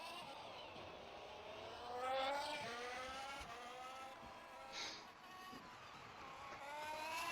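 Formula 1 race cars at the Seattle Grand Prix sprint, engines wailing steadily with rising and falling pitch as cars pass, a continuous loud racing drone with brief louder swells.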